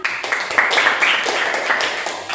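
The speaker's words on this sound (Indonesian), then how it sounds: "Tepuk tangan teman-teman" Classmates applaud a group presentation in a school classroom, a brief dense patter of many hands clapping steadily at moderate volume for a couple of seconds.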